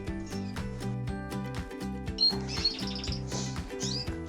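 Canaries, including cinnamon-line birds, chirp in a canary shed with bright, rapid tweets and trills scattered over a sustained musical background, with no talking.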